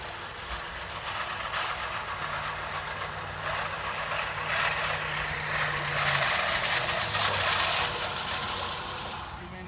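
Car traffic on nearby roads makes a continuous broad roar with passing swells, and a low engine hum drifts through the middle. No voices break in at any point.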